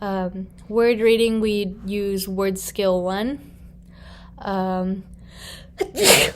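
A single sharp sneeze bursts out near the end, loud and close, after a stretch of someone calmly talking.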